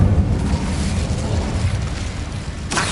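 A fiery Incendio spell cast in a Hogwarts Legacy tomb, heard as a loud, sustained rumbling whoosh with a sharp burst near the end.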